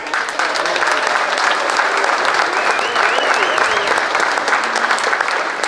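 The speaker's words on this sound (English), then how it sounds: "Should we give them a round of applause?" Steady, dense applause from an event audience thanking the employees who staffed the Moose Lottery in Fort Kent, Maine, sustained at an even level throughout with faint voices mixed in.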